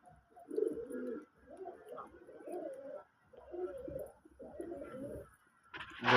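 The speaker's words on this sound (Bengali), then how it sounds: "দেখেন আমার কবুতরগুলা।" Pigeons coo in repeated soft, throaty phrases close by, with short pauses between bursts and a brief noise at the end.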